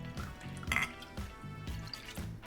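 Water and unseasoned rice vinegar poured into a container to make pickling brine for radish, a gurgling, dripping liquid flow with small clinks, steady and close, with no talking.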